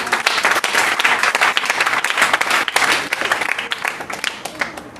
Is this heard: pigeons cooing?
no